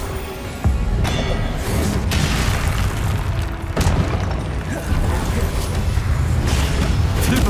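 In Hogwarts Legacy, the Confringo spell sets off heavy explosive booms in a loud, dense game battle, with sharp blasts rising over constant rumbling noise.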